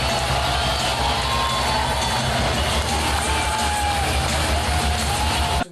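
A big crowd at a TNA live wrestling event roars and cheers steadily, a dense, loud wall of yelling and whooping that holds constant before cutting off abruptly.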